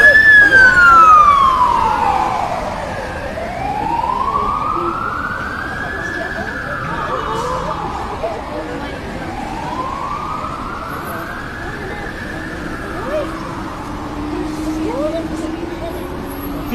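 Wailing sirens rise and fall in long sweeps as fire trucks approach a fire at NAIA Terminal 3 where vehicles burned, loud over busy crowd noise and traffic, with people talking throughout.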